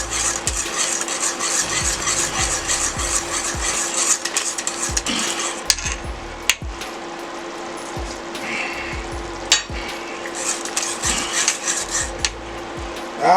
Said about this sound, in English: Whisk it up here real good.